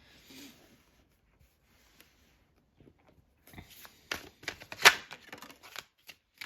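Tarot cards being shuffled in quiet sparse bursts, a faint riffle at the start, then a quick series of soft crisp flicks and taps, with one sharper snap near the end.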